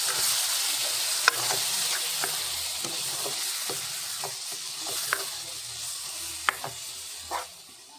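Tomato puree simmers in a pan of Punjabi dhaba-style chana masala, a soft, steady sizzle broken by a series of distinct scraping stirs and clicks at irregular intervals, close and fairly quiet.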